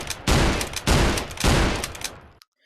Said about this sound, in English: Is this ever enough shotgun for you? Just a stereotypical M90?